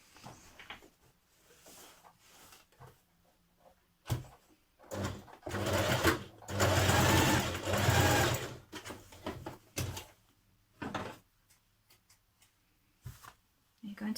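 Sewing machine stitching a seam on a spring dress, stop-start runs of rapid needle chatter building to a long burst mid-clip, close up, with a voice speaking at times between the runs.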